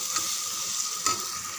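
Chicken biryani masala sautéing in a pan, with steady close sizzling and a couple of brief louder scrapes as it is stirred, with no talk.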